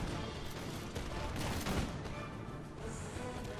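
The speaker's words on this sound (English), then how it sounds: "here he's going to have his Fusiliers friendly firing on these Fusiliers" Fusiliers fire musket volleys in a Napoleonic-era battle game, a dense crackling roll of many shots blending into a rumbling barrage that swells briefly in the middle, heard at a distance.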